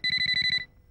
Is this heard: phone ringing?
yes